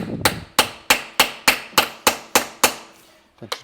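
A steady series of about nine sharp metallic taps, a hammer striking a chisel at an even pace, ending with two quicker hits.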